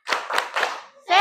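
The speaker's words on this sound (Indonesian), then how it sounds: "Coba tepuk semangat dulu." A school class does a rhythmic clapping cheer, three quick bursts of clapped hands in a row, close and lively, followed by a brief rise of voices.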